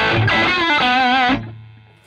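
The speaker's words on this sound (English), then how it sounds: "I'm on the brown channel of this guitar now. The reflecting pool is in the effects loop. I'm on the hall, variant one, with digital delay, and this is the dry sound." Crunchy electric guitar through the brown channel, played dry with no delay or reverb, a single distorted chord phrase of about 1.3 seconds that cuts off and decays quickly.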